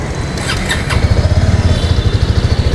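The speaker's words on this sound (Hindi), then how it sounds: "तो ये बाइक का एग्जॉस्ट नोट है," A Bajaj Avenger 220 Cruise motorcycle idles up close, its exhaust giving a loud, steady thumping pulse with a brief blip of revs early on, and no talk over it.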